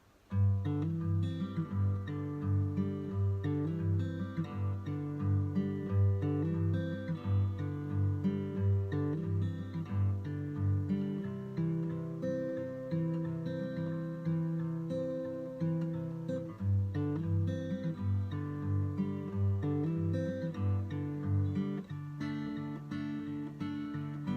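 Strummed acoustic guitar chords change steadily in an even rhythm, playing alone and close up for the whole stretch.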